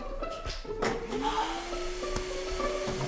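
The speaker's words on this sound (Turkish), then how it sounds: "elektrik süpürgesiyle evi süpürelim, temizleyelim biraz." A household electric vacuum cleaner runs up close for a few seconds, its steady whine rising in pitch as the motor spins up, with some bumps and clatter early on.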